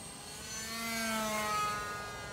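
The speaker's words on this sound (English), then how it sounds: "Geez, FMS makes some nice planes." FMS Mini Mustang RC model plane flying overhead outdoors, a steady high-pitched electric motor whine that swells as it passes close and then eases off, heard alone with no talk.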